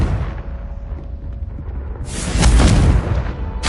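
An explosive Confringo spell from the video game Hogwarts Legacy erupts as a loud, broad blast about halfway through, following a steady rumbling game background.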